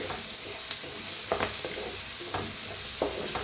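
Roasted ingredients with turmeric stirred in a pan, soft scraping strokes and brief clinks at an irregular pace over a faint steady sizzle, close and alone.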